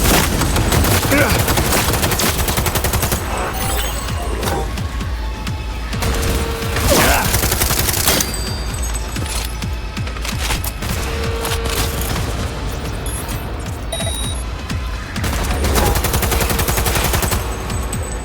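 Rapid gunfire fills a firefight in the video game Cyberpunk 2077: Phantom Liberty, with loud bursts of automatic fire and booming shots repeating throughout amid mechanical clanks and impacts.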